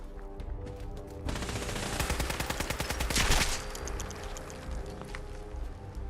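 A gun fires in Fallout 4, a rapid burst of automatic shots in quick, even rhythm, loud and close, building to a dense crescendo before tapering off into echoing game noise.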